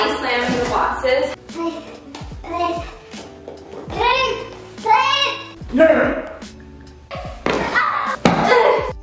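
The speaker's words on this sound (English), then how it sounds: "They just start body slamming the boxes." Cardboard boxes are body slammed in a series of loud, repeated thuds and slams, with children's voices chattering and shouting throughout.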